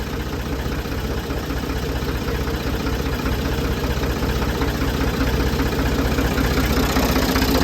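A Ford 2000 tractor engine idles steadily after sitting unused for a year, a loud, close, continuous mechanical drone with a faint knocking pulse and no voices.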